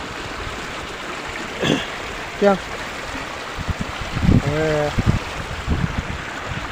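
A swollen river carrying runoff from five or six villages after many hours of nonstop heavy rain rushes with a steady broadband wash, while people talk briefly over it.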